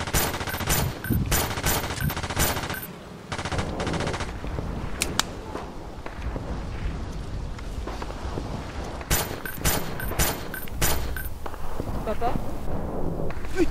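Gunfire rings out in a film battle scene: bursts of rapid shots and single cracks, loud and close, with shouting voices and scuffling between volleys.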